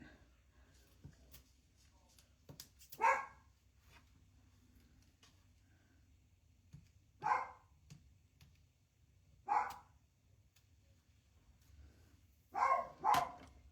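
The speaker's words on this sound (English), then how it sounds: "Makes me nervous when my dog stands in the kitchen and barks." A dog barks in a kitchen in short, sharp bursts, about five barks spread irregularly across the clip, moderately close, with quiet room tone between them.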